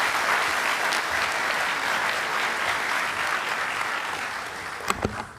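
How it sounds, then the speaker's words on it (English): An audience at a formal evening welcome event in Brisbane applauds, a dense, steady round of clapping from a full room that continues for several seconds before tapering off. "If we can please have a big round of applause"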